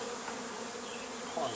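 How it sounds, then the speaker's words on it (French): Honeybees swarm around the hives at an apiary, making a dense, steady buzz that fills the short clip at moderate volume with no pauses. "on est au rucher. Voici donc une partie des ruches."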